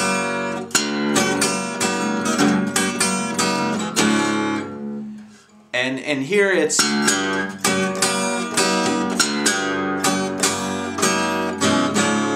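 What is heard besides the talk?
blues guitar instrumental break on the four chord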